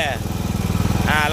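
A small engine runs close by as it is throttled down, a rapid steady chugging pulse with brief higher whines at the start and end.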